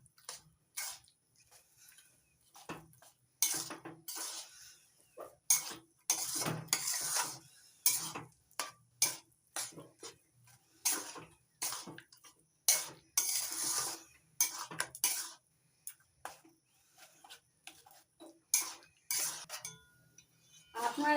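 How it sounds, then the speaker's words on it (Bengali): Jaggery and grated raw mango are stirred in a pan with a utensil, producing repeated scraping and clinking strokes in an irregular rhythm, close and moderately loud, with short pauses between bursts. "এবার গুড় আর গ্রেট করে নেওয়া আম ভালো করে মিশিয়ে নিচ্ছি"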